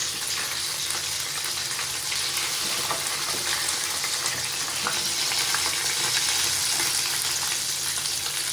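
Chicken pieces for homemade KFC-style fried chicken frying in hot oil, a steady close sizzle with crackling and bubbling that holds throughout, with no talking.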